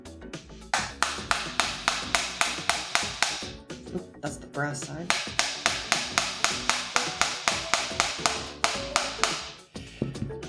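Metal hammer strikes on a gun's charging handle during gun cleaning, a steady rapid series of sharp close taps repeating for several seconds with a brief pause, with a voice speaking briefly partway through.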